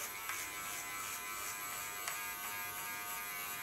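An electric hair clipper runs in a steady, even buzz while it is passed over a head, staying close and constant with a few faint scraping touches.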